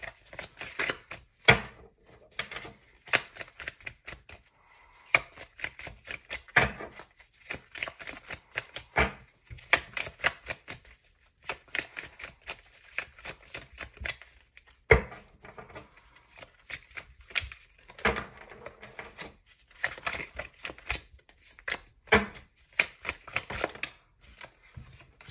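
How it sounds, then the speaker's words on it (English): Tarot cards shuffled by hand in a long run of quick riffling, flicking bursts with brief pauses between, close and clear with no talking. "continue shuffling"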